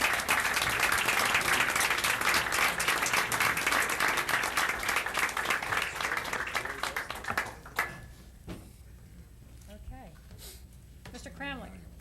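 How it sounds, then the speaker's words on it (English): Audience applause at a school board meeting, a sustained round of clapping from the room that thins out and fades, followed by faint murmuring voices and quiet room sounds. "Ladies and gentlemen, a round of applause for Mrs. Hubler."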